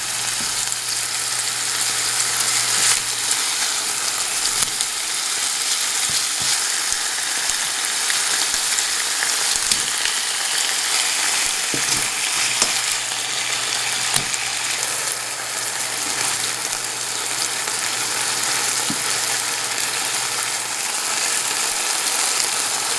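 Fish browning in a hot pan for Bengali fish curry, a loud, steady, even hiss of frying oil sustained throughout with faint occasional clicks and no speech.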